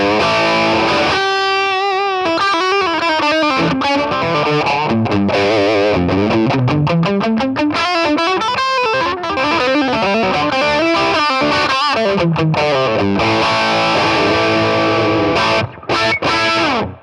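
An electric guitar plays through the overdrive channel of a Marshall JCM900 Studio amp, giving heavily distorted riffs and fast lead runs that stay loud and continuous for the whole passage.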